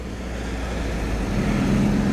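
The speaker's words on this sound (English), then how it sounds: "Another car going into the replica Italian club stand." A classic car drives past into a replica Italian club stand at an outdoor classic car show, its engine a steady, fairly loud low rumble that swells slightly toward the end, with no talking.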